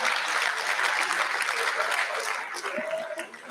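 Sustained applause from an audience at a high school awards ceremony honoring the graduating class of 2022, steady dense clapping throughout that thins slightly toward the end, with a faint voice near the close.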